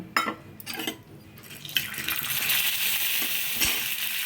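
Urad dal hits hot oil in a pan for a tempering, bursting into a steady rising sizzle after a few scrapes and clinks of utensils, with no one talking.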